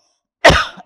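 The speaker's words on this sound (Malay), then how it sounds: "Itu kata kat dia, itu batuk tu." One loud, close cough bursts out sharply and trails off quickly, with the start of another short sound right at the end.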